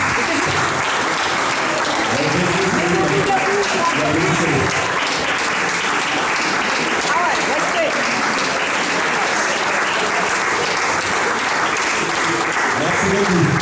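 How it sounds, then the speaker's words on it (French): A hall audience claps loudly and continuously for students at a French sports event presenting Olympic medals, a dense, even roar of applause lasting throughout. "je vous demande de les applaudir bien fort"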